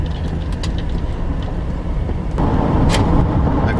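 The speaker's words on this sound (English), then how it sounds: "Taking Melissa's truck up to the tent." A pickup truck drives along early in the morning, its engine a steady low rumble with road noise throughout, growing somewhat louder and brighter partway through.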